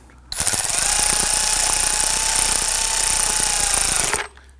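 A power tool snugs down throttle body screws on the intake manifold of a 2015-2020 Ford F-150 with a 2.7L V6, one continuous loud, steady whir of about four seconds, close up, with no talking.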